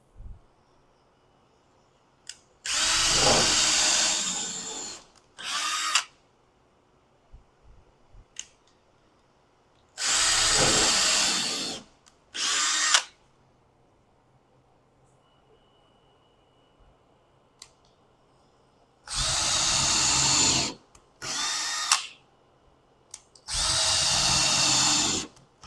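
A power drill pre-drills holes in wooden picket fence boards, whirring in several short bursts of a second or two each, separated by quiet pauses.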